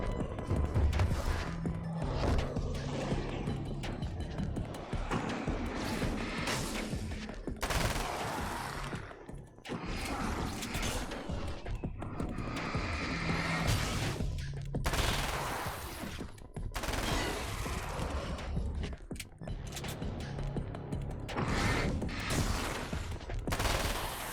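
Rapid gunfire from a weapon in the video game Alan Wake's American Nightmare, loud, dense bursts and volleys of shots rattling continuously with crashes mixed in, a brief lull midway before firing resumes.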